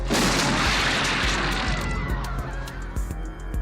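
Practical-effects head explosion from the 1981 film Scanners, a loud burst of blasting crash and boom at the start that fades into rumbling debris and scattered thuds, with no talk.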